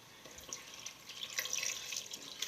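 Water trickles and splashes into a pan of cooked flour being made into gravy, a faint, close, uneven pouring sound with no talking.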